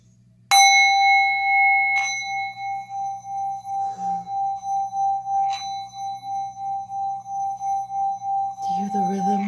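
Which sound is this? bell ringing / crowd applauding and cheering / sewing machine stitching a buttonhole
bell ringing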